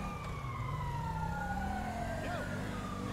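An ambulance siren wails in GTA5 with the LSPDFR police mod, its tone slowly sliding as it holds steady and fairly close, over a low engine rumble and faint background game noise.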